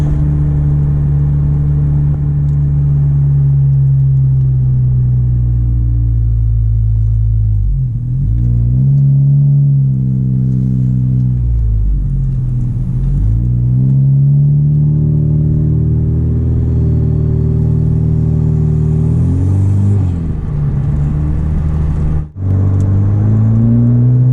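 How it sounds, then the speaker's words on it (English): From inside a turbocharged Honda Civic with a 3-inch straight pipe, a loud, steady deep exhaust drone fills the cabin, rising and falling with gear changes and throttle, briefly dipping once before resuming. "If I do get on it a little bit, you might be able to hear that turbo."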